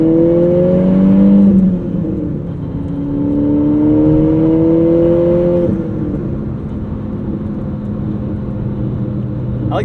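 The engine and exhaust of a 2008 Volkswagen GTI two-door manual rise in pitch under acceleration, then drop back after a gear change and pull again, a loud steady hum heard from inside the car.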